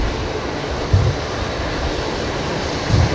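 Aircraft arriving at Brisbane Airport, a steady broad jet roar with low rumble holding at a constant level, loud and continuous with no voices.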